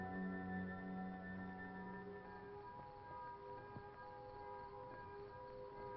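A curfew bell tolls at nightfall over hills in a mid-20th-century town, its resonant, ringing tone lingering and slowly fading from a distance, faint and alone.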